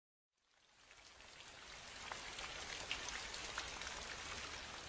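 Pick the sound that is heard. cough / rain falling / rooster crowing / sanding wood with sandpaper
rain falling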